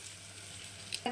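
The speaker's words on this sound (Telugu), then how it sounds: "ఇదిగోండి ఆయిల్ వేడెక్కింది ఇప్పుడు పోపు దినుసులు వేసుకుందామండి" Spices for tempering dropped into hot oil, a faint steady sizzle that briefly swells near the end as more go into the pan.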